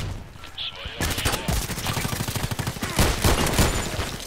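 Gunfire in the shooter game Contract Wars, sniper and Python revolver play: rapid bursts of close, loud shots firing in quick succession after a short quiet lead-in, with occasional heavier reports.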